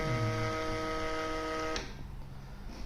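An Epson TM20X receipt printer with an automatic cutter prints a banknote count result: a steady, tonal mechanical whir runs for almost two seconds, then stops with a sharp click, leaving a faint room hum.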